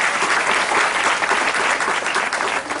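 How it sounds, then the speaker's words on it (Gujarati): An audience claps steadily in honour of sacred padukas at a temple gathering, a dense, loud, continuous wash of applause filling the whole moment with no voices over it. "આપણે ફરી એક વખત આ પાદુકાનું સન્માન કરી તાળી વગાડીને"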